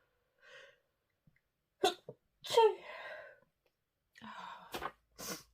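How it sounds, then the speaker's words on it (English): A single sharp sneeze bursts out in a quiet room, preceded by a soft catching breath and followed by brief sniffs and short bits of speech. "Excuse me, I'm going to sneeze."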